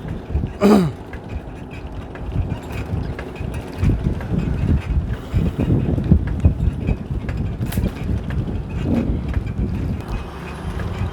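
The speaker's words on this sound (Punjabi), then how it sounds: "ਹਵਾ ਅੱਜ ਚੱਲ ਰਹੀ ਆ ਥੋੜੀ ਥੋੜੀ" Wind buffets the microphone outdoors during a bicycle journey, a continuous gusty rumble with uneven surges and no talking.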